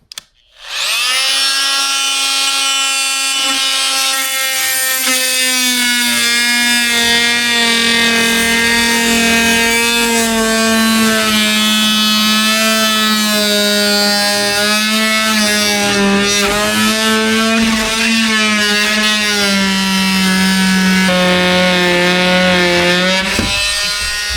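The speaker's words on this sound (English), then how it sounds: "This multi-tool seems to work pretty well, but I don't know, it has like a variable speed on it" Variable-speed oscillating multi-tool cutting through wood in a pole barn shop, a loud steady buzzing whine held for over twenty seconds with its pitch drifting up and down as the speed wanders, alone without talk.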